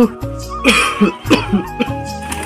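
Several rough, close coughs in quick succession, a hacking series of bursts with brief gaps between them.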